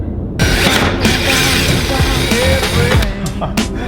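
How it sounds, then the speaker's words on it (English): A power drill whirs steadily and grinds, its motor pitch dipping as it bites into material, with mechanical rattling throughout. "You can drill through this like butter."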